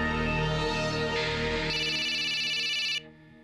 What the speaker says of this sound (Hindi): क्या हुआ, तुम फोन क्यों नहीं उठा रही?